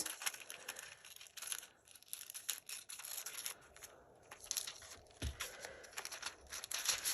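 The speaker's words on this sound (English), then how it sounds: "I'm going to take some scissors" Scissors cutting around a foil stencil: faint, close crinkling and snipping in quick irregular bursts with brief pauses, and no talk.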